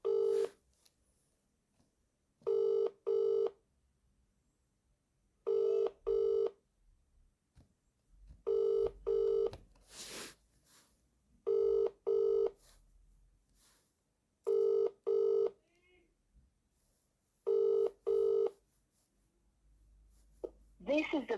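A mobile call rings out with seven evenly spaced double ring tones, each pair clear and loud, separated by quiet gaps with faint background noise and a brief burst of sound in the middle.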